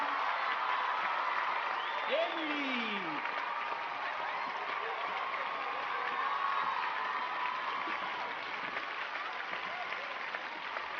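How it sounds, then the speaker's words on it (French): A crowd applauds and cheers for a jump-rope competition winner, sustained dense clapping with some whoops, while an announcer's voice speaks over it. "Applaudissez, je vous prie, Emily Smith d'Angers."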